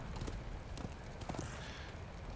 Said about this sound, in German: Wir reiten jetzt einfach mal dorthin